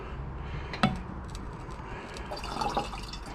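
Water trickles and splashes as it rinses dirty hydrochloric acid off purple ceramic CPU pieces, with a few sharp drips and clinks standing out close by.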